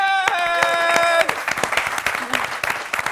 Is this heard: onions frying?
no